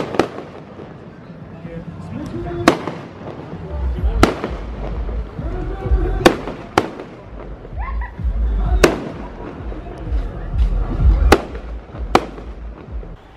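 Fireworks burst one after another at spaced intervals over a beach in Antalya, Turkey, sharp bangs with crackling tails, while people talk and murmur nearby throughout.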